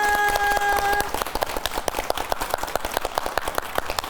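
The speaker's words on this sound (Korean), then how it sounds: "뜨거운 박수 한번 부탁드립니다" Applause from a studio audience closing a plant-care lecture broadcast, a steady patter of individual claps lasting several seconds after a brief musical tone fades at the start.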